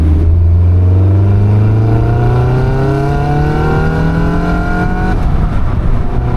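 A Caterham 340S sports car engine revs hard under acceleration from inside the car, its note rising steadily through a gear before a brief drop at a shift, loud and close with no talk.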